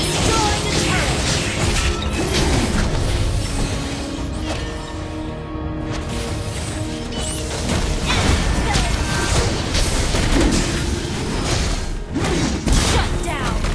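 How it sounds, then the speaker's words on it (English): Game sound effects from Mobile Legends as a turret is destroyed: a dense, continuous mix of crashing, booming impacts and mechanical clatter, loud and busy throughout with an announcer-style voice layered over the action. "Your team has destroyed the turret!"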